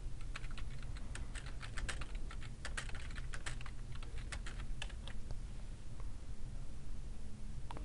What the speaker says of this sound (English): type in the question you want to ask your fans